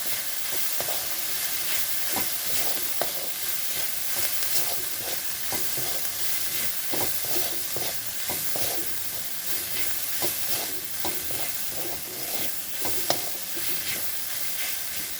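Turmeric is stirred into dried fish and taro stolons frying in a pan over high gas, a continuous loud sizzle broken by repeated scraping strokes of a spoon at a steady rhythm, with no speech.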